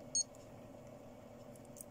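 One short, high electronic beep from a Pulsar V693-7000 yacht timer watch near the start, then only faint background hum.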